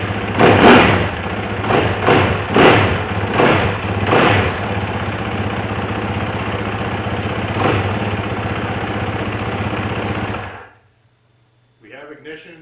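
Yamaha WR450F dirt bike with a GYTR programmable ECU starts up and settles into a steady, loud close idle, with several sharp revs at first, running continuously for about ten seconds before cutting off.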